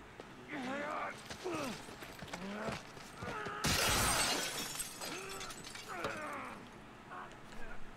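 Glass shatters loudly in The Last of Us, a single crashing burst in the middle of the clip, with someone talking before and after it.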